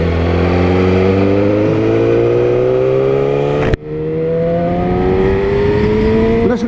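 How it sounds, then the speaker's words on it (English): A 2019 Yamaha R6 sport bike fitted with an Akrapovic exhaust revs hard and close, its rising engine note climbing steadily, cutting off abruptly mid-clip, then building again in a second screaming rev. "Oh, got amazing sound. This is just the Akrapovic."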